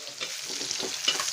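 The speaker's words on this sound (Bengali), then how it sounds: "এখন পেঁয়াজ কুচি দিচ্ছি তেলের মধ্যে।" Chopped onions dropped into hot oil for chicken puri, a steady close sizzle with soft stirring scrapes and brief spitting bursts throughout, no voices.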